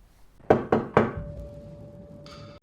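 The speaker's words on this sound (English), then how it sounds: "She's knocking on his door." Three firm knocks on a door in a film, sharp and evenly spaced near the start, followed by a quiet steady tone and faint background sound.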